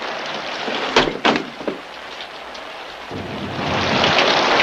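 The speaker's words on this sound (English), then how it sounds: "It's raining." Heavy rain pours down outdoors in a 1960s storm scene, a steady broadband wash that swells louder toward the end, with a few sharp thumps or thunder-like cracks near the start.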